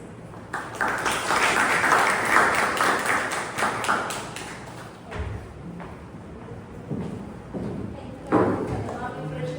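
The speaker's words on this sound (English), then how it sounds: "Let's cheer for Nancy Kurana, sing her praise." Audience at a Toastmasters club meeting breaks into loud applause that swells for several seconds, then fades into scattered claps, taps and thumps, with voices speaking over the tail end.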